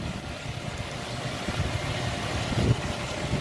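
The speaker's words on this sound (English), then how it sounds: "Euro 6 DAF MX-11 engine" Euro 6 DAF MX-11 diesel engine idling in a 2018 Temsa HD12 Safari coach: a steady low rumble with a slight swell near the end, moderately close, no talk.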